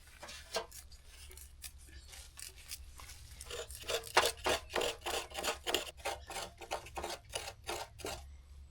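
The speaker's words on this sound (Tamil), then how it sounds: "அக்கா வந்து தேங்காய் திருவிட்டு இருக்கிறாங்க" Fresh coconut being grated by hand with a traditional grater outdoors beside a lakeshore, giving a steady run of rhythmic rasping scrapes that grow louder and more regular partway through, with no talking.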